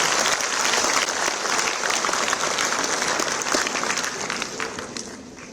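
An audience applauds to welcome the chief minister at an inauguration and foundation-stone event on the AIIMS campus, a dense, sustained burst of clapping that fades slightly toward the end.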